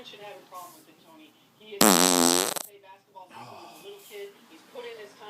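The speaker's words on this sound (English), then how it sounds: "Laying down, standing up, fart, fart, fart." A person lying down lets out one long, loud, buzzing fart of about a second, with someone speaking before and after it.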